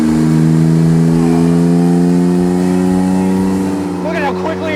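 A tiny car's small engine winds up through its rev range under acceleration, a loud steady tonal drone climbing slightly in pitch, with someone talking over it near the end.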